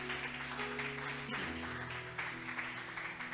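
A church congregation applauding together, a steady crowd clapping that holds at an even level throughout with no clear break.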